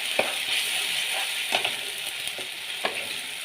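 Tomato paste fries in oil with panch phoron for a Bengali tomato chutney, a steady loud close-up sizzle with the scrape and clink of a spatula stirring the pan every so often.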